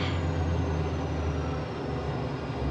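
Eurofighter Typhoon jet engine in a flight simulator, a deep, steady roar with heavy low-end rumble that holds constant at high speed, loud and close throughout with no talking.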